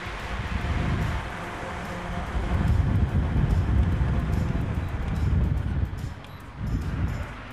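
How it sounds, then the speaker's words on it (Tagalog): Repaired electric fan running at speed, a loud steady whoosh of strong airflow with a low hum and slight fluctuations. "Mas malakas ho ang hangin ngayon, pati yung ang tawag nun, pagaspas ng hangin, malakas din ang ugong."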